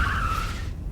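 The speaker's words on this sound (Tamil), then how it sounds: "கார் சவுண்ட் கேக்குது" A car pulls up with a brief rising tire squeal that fades out within a second, heard against a dense low rumble of engine and road noise.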